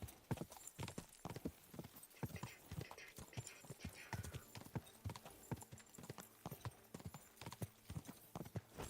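Galloping horse hooves in Kingdom Come: Deliverance 2 pound out a rapid, steady clip-clop rhythm for the whole stretch, close and loud over a faint game ambience.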